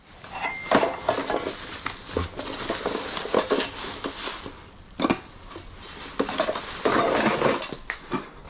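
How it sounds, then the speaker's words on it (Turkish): Metal cooking pots clink and clatter as they are handled and shifted in a storage unit, with irregular close knocks and rattles and no talk. "burada tencerelerimiz var."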